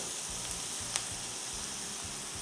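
Salt and pepper chicken ingredients sizzle and fry steadily in a hot pan, a continuous close hiss with soft low scraping and stirring knocks throughout and one sharp utensil tap.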